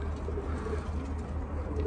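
Low, soft cooing of domestic pigeons on a rooftop loft, steady and repeated, heard close against a constant low hum.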